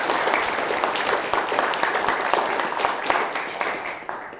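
Church congregation applauding during a Sunday sermon, a steady dense wash of many hands clapping at even loudness throughout, with no voice over it.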